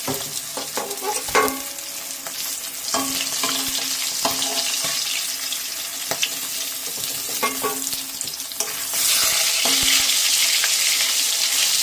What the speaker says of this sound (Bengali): এখন আমি ওই তেলে বাকি মাছগুলো ভেজে নেবো